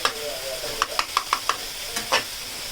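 Onions and tomatoes fry in a pan with a steady sizzle, broken by a quick run of five rhythmic spatula scrapes and a couple more strokes, close up.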